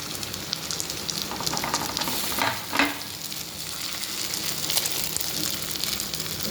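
Mashed potato with onion, chili powder and salt frying in a pan makes a continuous close sizzle, with a stirring scrape that swells briefly midway, and no one speaking.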